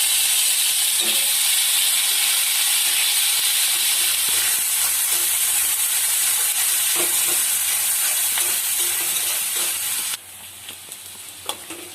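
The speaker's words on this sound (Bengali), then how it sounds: "পেঁয়াজ কুচিগুলো একটু লাল লাল করে ভেজে নেব" Chopped onions sizzle in hot oil with a pinch of sugar, a steady bright frying hiss with scattered stirring scrapes, loud and close throughout, dropping slightly in level near the end.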